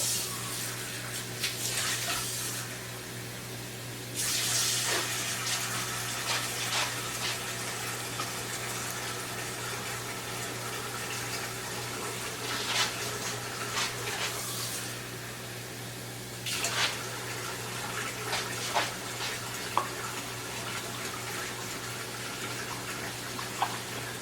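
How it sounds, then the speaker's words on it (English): Water trickles and splashes steadily from a tap as it is poured into empty muffin tin cups, a continuous close running sound that lasts the whole stretch and stops and restarts briefly. "I am going to add a little bit of water to each one of these other muffin tins"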